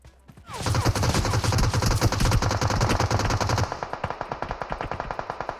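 Automatic gunfire in the mobile battle-royale game PUBG Mobile: a loud, sustained close burst of rapid shots lasting several seconds, followed by a slower string of separate shots.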